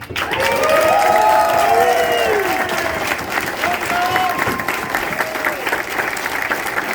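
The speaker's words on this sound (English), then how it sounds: "How about a round of applause for the staff?" Applause for the staff at a drift company's annual drivers banquet and awards ceremony: a room full of clapping, strongest early and then tapering, with voices and a few cheers mixed in.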